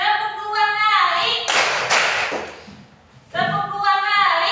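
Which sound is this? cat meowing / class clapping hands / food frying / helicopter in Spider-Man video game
class clapping hands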